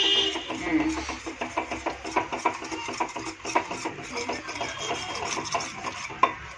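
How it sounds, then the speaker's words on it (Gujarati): Millet flour roasting in ghee over a medium flame, with quick, repeated spoon-scraping strokes against the pot in a busy rhythm, a faint sizzle underneath, and a voice talking over it. "હવે ઘીમાં શેકવાનો છે."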